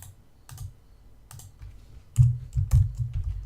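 Fingers type on a computer keyboard in short bursts of close, crisp key clicks with brief pauses between them, alone without talk.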